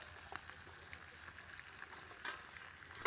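Small dried anchovies sizzle and crackle as they fry in a pan of oil, a steady, faint hiss broken by a few sharper pops and spatters, with no voices.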